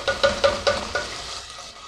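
Tuna frying in oil in a pan gives off a soft sizzle, broken by four quick, evenly spaced scraping stirs of a spatula close by, and then a fading hiss.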